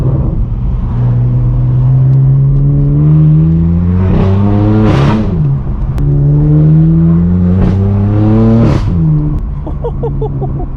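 A straight-piped BMW M4 F82 drives on the road with its loud exhaust droning up close, the engine note rising and falling through repeated revs and gear changes, dominating the whole stretch.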